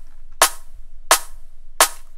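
Three sharp, bright snare hits evenly spaced about 0.7 seconds apart, a single unprocessed layered snare sample from an FL Studio liquid drum and bass beat, dry and isolated with no talking.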